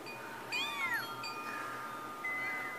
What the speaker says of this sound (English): Oh, poor kitty.